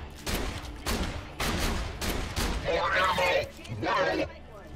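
Gunfire from a talking AI-core weapon in the video game Borderlands 2, a run of loud bursts of shots with the gun's synthetic voice chattering between and over them.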